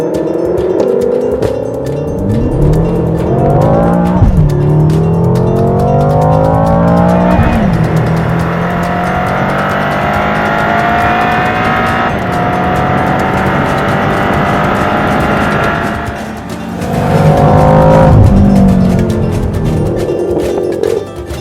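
A 2013 BMW M5 or M6 Coupe launches on a race track from a held 3,000 rpm, engine howling as it climbs through rising revs with gear changes, tires squealing on a cold, slightly greasy surface, loud and close throughout.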